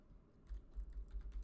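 Keys clatter on a computer keyboard during 3D effects work in a Houdini-style scene setup, a short burst of soft, irregular clicks starting after a brief pause, close and fairly quiet with no talking.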